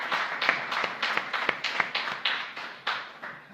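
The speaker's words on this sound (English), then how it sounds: "Let's give him a well-deserved round of applause." An audience at a ministry gathering gives a round of applause, heard as a rhythmic run of fairly distinct claps, moderately loud and steady throughout.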